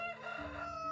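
Chickens on a farm in the medieval survival game Medieval Dynasty give drawn-out, rooster-like calls and clucks that carry steadily through the whole moment, fairly close and with no talking.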